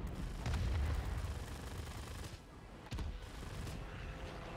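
Aircraft guns firing during a dogfight in a P-51 Mustang combat video game, bursts of booming shots over a continuous engine drone, fairly quiet overall.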